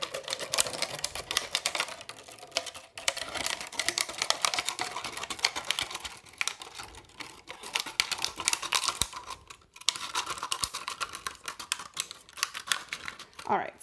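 Scissors cutting a plastic water bottle in a spiral, a continuous crackling, crinkling snip sound close up with short pauses, fairly quiet overall.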